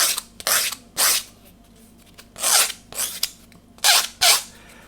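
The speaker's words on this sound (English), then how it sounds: "I'm going to do it with a sanding stick here," A sanding stick rubbed along a small wooden part of a Vanguard Models HM Sherbourne ship model to chamfer its edge, heard as short close scratchy strokes in irregular pairs with quiet gaps between them.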